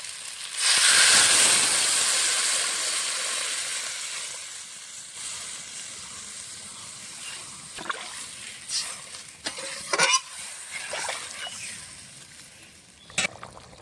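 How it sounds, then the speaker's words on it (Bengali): Fish curry with potatoes in a pot giving off a loud steamy hiss that slowly fades, followed by scattered soft bubbling pops and stirring sounds. "ঝোলটা ফুটে উঠেছে, আলুটাও সেদ্ধ হয়ে গেছে।"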